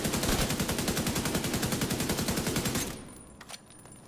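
Rapid automatic fire from an FAL rifle in The Division 2, a loud steady burst of closely spaced shots for nearly three seconds that then cuts off into quiet game ambience with a faint click.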